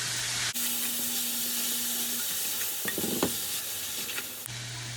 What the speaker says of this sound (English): Once that's all in there, stir it really good. And again, we're going to let this cook for a few minutes.